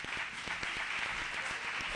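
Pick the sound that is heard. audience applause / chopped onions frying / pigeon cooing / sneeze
audience applause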